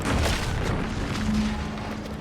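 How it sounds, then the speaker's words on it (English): A muffled explosion in the video game The Outer Worlds 2 rumbles as a low, sustained boom through the whole stretch, steady and fairly loud with no voices over it. "What's that? An explosion?"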